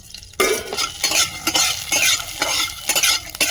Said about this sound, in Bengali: কড়াইতে তেল দিয়ে দেব উনুনে একদম জাল দেওয়া যাবে না তাহলে বড়ি ভাজা হবে না পুড়ে যাবে বড়িটা ভেজে নেব